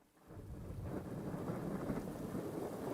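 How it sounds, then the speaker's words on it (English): Thunderstorm with rain on the Serengeti, played as a sound sample: a steady, broad wash of rain and deep rolling thunder that swells in within a fraction of a second and holds at a fairly loud level. "The rainstorm on the Serengeti's, a thunderstorm."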